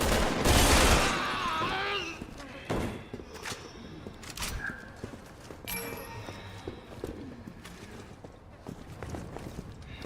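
A burst of gunfire in Resident Evil 6, a loud crackling volley up front followed by scattered sharp impacts, clatter and shuffling at moderate volume, with faint voices in the mix.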